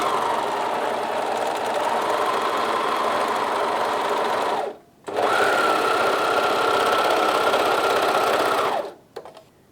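A Bernina 1100DA serger runs a rolled hem with the cutter set to 2, a loud, close, steady mechanical whir in two long bursts, separated by a brief stop and ending abruptly.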